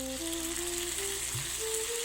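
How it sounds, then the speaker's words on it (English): Chopped tomatoes sizzle and fry in a pan while cooking beans sabji, a steady close crackle that fills the short stretch with no talking. "It is now time to add the chopped tomatoes to the pan."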